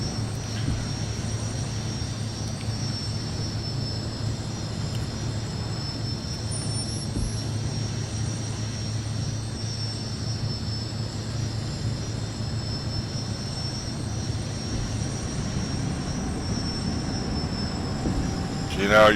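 Twin aircraft engines with both propellers turning give a steady, loud drone and hum that runs unchanged throughout, with no voices.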